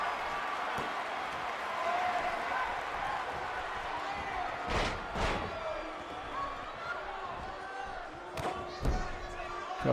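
A DDT slam in the corner at a PPW Warfare tag-team wrestling event, heard as two sharp, loud thuds on the ring mat about midway and another pair near the end, over steady crowd noise and a commentator's voice.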